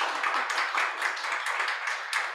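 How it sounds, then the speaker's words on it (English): An audience gives a round of applause after a talk, a steady rattle of many hands clapping at moderate, fairly distant level, with no voices over it. "A round of applause, folks."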